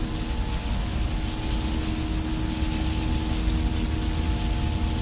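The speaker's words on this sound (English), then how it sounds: "the rain sound is just so annoying" Steady rain pours in the X-Plane 12 flight simulator during a Boeing 757 freighter takeoff roll at St. Maarten, a dense continuous hiss mixed with a low engine hum and faint tonal cockpit drone.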